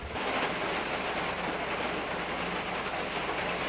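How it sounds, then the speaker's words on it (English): Steady, dense roar of heavy rain drumming on a tin roof, loud and continuous with no pauses or voices. "I love the sound of the rain on the tin roof."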